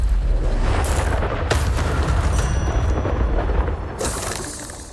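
Confringo spell blasts in the Hogwarts Legacy video game go off as a few loud, sudden booms with bright crackling bursts, separated by rumbling decay.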